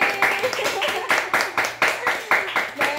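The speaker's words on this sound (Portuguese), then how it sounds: "Vamos dar uma salva de palmas aqui, equipe?" A small group claps hands together in applause, the claps landing in a fairly regular rhythm of distinct close strikes, with voices chattering faintly underneath.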